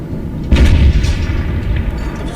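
Buildings being bombed in the destruction game Teardown, one heavy booming explosion with a deep rumbling tail that fades slowly, loud and close with no speech.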